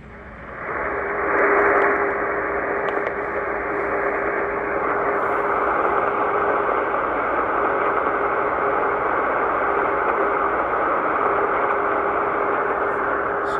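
The OW non-directional beacon at Ottawa, Canada airport comes in on 236 kHz longwave as a faint, steady tone buried under loud, constant radio static and hiss, with no voices.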